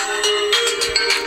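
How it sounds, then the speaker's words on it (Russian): A Doogee N20 smartphone plays its ringtone through the loudspeaker at maximum volume, a bright repeating electronic melody of short pulsed notes, loud and close with no talking. "Устанавливаем максимальную громкость и тестируем звук."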